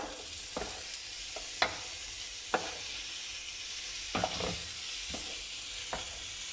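Rice for paella is stirred and fried in a pan over medium heat, with a steady soft sizzle and scattered scraping clicks of the spoon at an irregular pace, close up and moderately quiet.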